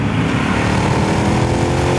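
A Honda CB1000R motorcycle engine drones with induction noise around 4,000 RPM, a loud, steady, close buzzing hum that holds even throughout.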